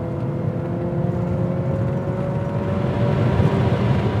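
Porsche 944 Turbo engine pulling hard under acceleration, heard from inside the car as a steady, dense drone that climbs slightly in pitch over a few seconds, continuous and close with no speech.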